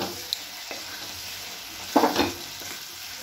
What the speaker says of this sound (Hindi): इसको अच्छे से मिला लें।